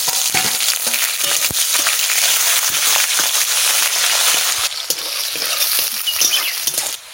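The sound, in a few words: cumin, bay leaves and onion frying in pan for chicken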